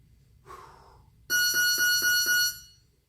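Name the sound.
workout timer buzzer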